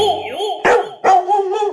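A dog barks twice in sharp, loud bursts close by, set against a high whining or melodic tone that runs throughout.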